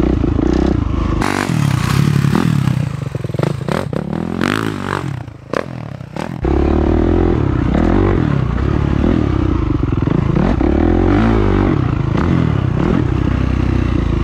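A dirt motorcycle rides in first gear toward a big jump, its engine droning and revving up close with clattering and scraping from the terrain, briefly dipping before the motor settles into a steady, loud pull.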